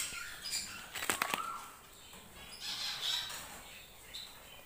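Long-tailed birds and budgies flap their wings as they are released into a cage, giving soft, quick fluttering bursts amid light knocks and faint chirps.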